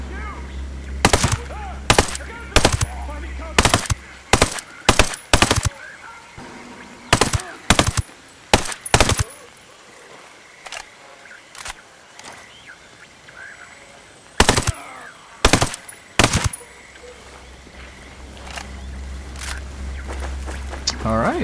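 Gunfire in Ghost Recon Breakpoint: loud separate bursts and single shots in clusters, with quieter gaps between them and low game ambience underneath.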